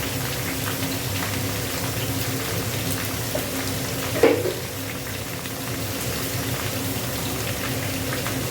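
Dried red chilli and cumin tempering sizzling in hot oil poured into pea dal, a steady faint hiss with one brief louder splash and crackle midway, no talk.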